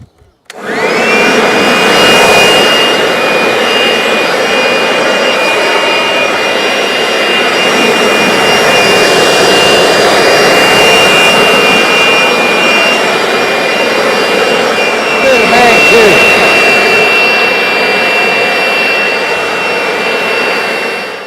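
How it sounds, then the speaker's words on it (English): Compressed air blasting dust off a Shopsmith DC-3300 dust collector in a workshop, a loud, continuous close-up hiss and roar with a high whistling tone that holds for about twenty seconds. "So I think we got that all blown out pretty good."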